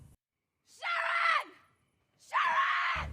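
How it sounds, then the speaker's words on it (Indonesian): A mother screams in a horror film set in a ghost town, giving two long, loud, strained cries separated by a short silence. "Film ini dibuka dengan teriakan seorang ibu yang sedang mencari anaknya"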